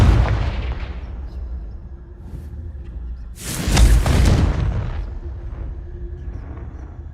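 In Hogwarts Legacy a Confringo blasting spell erupts as a single loud, close explosion with a heavy low boom, following a fading rumble from an earlier blast, then dies away into quiet.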